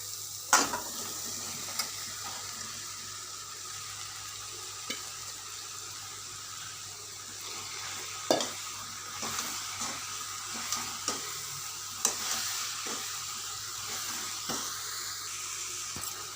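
Half a kilo of mushrooms cook in a pan, giving a soft steady sizzle with occasional faint scrapes and taps of stirring, close but quiet.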